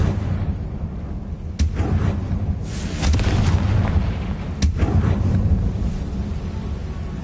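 Confringo fire spell blasts explode during Hogwarts Legacy combat: two sharp booming hits a few seconds apart, each followed by a heavy rumbling roar over a constant low rumble.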